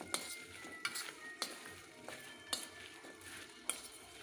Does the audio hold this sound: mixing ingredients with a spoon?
yes